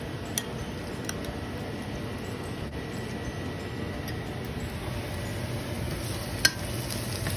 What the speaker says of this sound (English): My onions and garlic are getting fried.